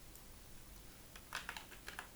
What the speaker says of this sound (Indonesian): Nah, kita coba ketik ya